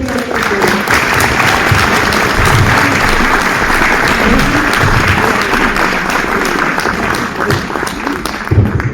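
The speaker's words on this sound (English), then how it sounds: "So give a big applause to Tamara" A conference audience at a peace and justice gathering applauds its first speaker, a dense, steady wash of clapping hands that holds at full strength throughout, with a few murmurs in the crowd.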